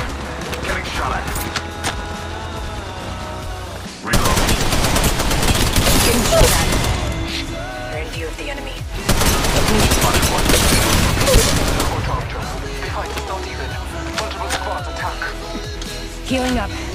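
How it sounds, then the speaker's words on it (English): Gunfire in the mobile battle royale Apex Legends Mobile: long, loud bursts of rapid automatic fire come in two heavy waves, with scattered single shots and clatter between them and voices talking over the action. "Getting shot at."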